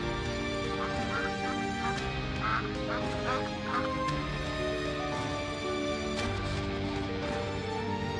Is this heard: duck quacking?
yes